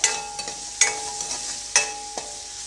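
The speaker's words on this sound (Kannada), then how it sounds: "ಗ್ಯಾಸನ್ನು ಮೀಡಿಯಮ್ ಫ್ಲೇಮಲ್ಲಿ ಇಟ್ಕೊಂಡು ಫ್ರೈ ಮಾಡ್ಕೊಳ್ಳಿ" Paneer frying in a pan over a medium flame, a soft continuous sizzle broken by a few crisp spatula taps and scrapes, close up with no voices.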